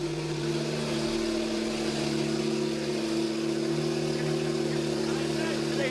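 Porsche 911 Turbo S with downpipes idling after a cold start in a garage, a steady loud droning engine hum with strong low tones, constant throughout with no talk.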